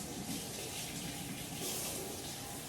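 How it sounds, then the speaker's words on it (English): Tap water runs steadily into a kitchen sink as celery stalks are rinsed, a continuous broadband splashing hiss with slight swells and no voices. "And let me wash my celery."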